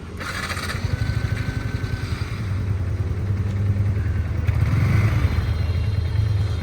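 A Yamaha R15M motorcycle engine runs at steady idle close by, a low continuous rumble with a slight rise in revs partway through, heard alone without talk.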